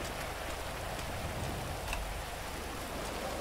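Rain falls steadily in GTA 5 as a dense, even hiss with faint scattered drop ticks. It is constant and close, with no voices.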